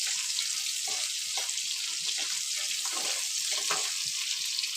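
Chicken frying in a pan, giving a steady, loud bright sizzle with small popping crackles and faint clinks throughout, with no voices.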